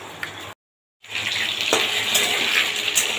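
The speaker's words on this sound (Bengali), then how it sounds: "এবার পটলটা এর মধ্যে ভাজা ভাজা করে নেব" Pointed gourd (potol) frying in oil in a pan gives a steady close hiss and sizzle, broken by a brief silent gap and then growing a little louder.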